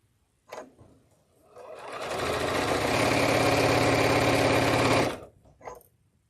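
A sewing machine stitches in one continuous, loud, even run of about three seconds, starting after a couple of faint knocks and ending abruptly, with a few small clicks afterward.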